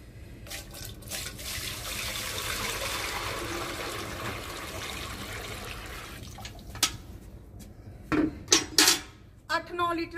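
Water pours steadily into a large cooking pot used for making buffalo and cow feed, a loud rushing stream lasting several seconds, followed by a few sharp metallic clanks of the vessel.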